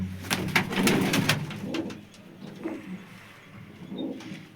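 Pigeons cooing close by, several soft throaty coos in a burst at the start, then a few quieter, spaced calls against low outdoor background noise.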